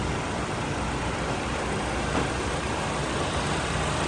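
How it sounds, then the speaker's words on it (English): A 2017 Hyundai Elantra with a swapped-in 2.0 engine idles with a steady, even hum throughout, alone with no talking. "Healthier engine right there."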